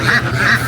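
Ducks at a duck market give a quick run of loud, close, nasal quacks in a steady rhythm, with no talk over them.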